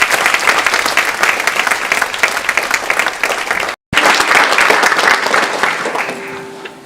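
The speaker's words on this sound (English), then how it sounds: "Let's give all these outstanding artists another round of applause." An audience at a Bharatanatyam arangetram dance performance gives the accompanying musicians a dense, sustained round of clapping that breaks off for a moment, resumes strongly and then tapers away.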